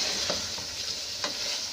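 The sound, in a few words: stirring mutton ginger with green coriander in a pan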